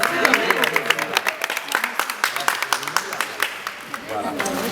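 Hand clapping from a gathered audience at a birthday celebration, heard as a scattered, uneven run of sharp individual claps with voices mixed in throughout.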